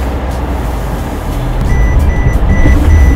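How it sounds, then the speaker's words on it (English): A 2021 Jeep Grand Cherokee Overland backs up while its backup alert sounds a series of short, evenly spaced electronic beeps. The beeps sit over a low, rumbling vehicle and road noise that grows slightly louder. "I'm just gonna start backing up here."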